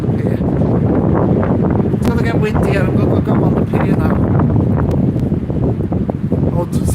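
Strong wind buffeting the microphone on Blackpool pier, loud gusty rumbling throughout with someone talking over it.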